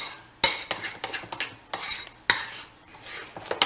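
A spoon clinks and scrapes against a bowl in quick, uneven strokes while besan dhokla batter is mixed with Eno, each sharp knock standing out close and loud with no one talking.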